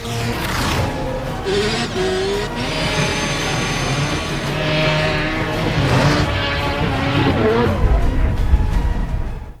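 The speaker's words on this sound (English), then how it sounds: "a performance version of Mazda MX-5 with a rotary engine that has 1200 horsepower" A 1200-horsepower rotary-engined Mazda MX-5 runs loud and close, its engine droning with rising and falling revs and a buzzy, harmonic-rich tone that surges toward the end.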